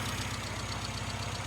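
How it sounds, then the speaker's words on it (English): A car engine runs at a steady idle with a close, even low throb and a slight rhythmic knock during carburettor tuning, with no voices. "the engine's responding as it should."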